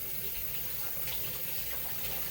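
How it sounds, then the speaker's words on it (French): Cracked eggs rinsed under a running kitchen tap, a steady broadband rush of water with faint splashing, continuous and fairly quiet close by. "je vais essayer de rincer."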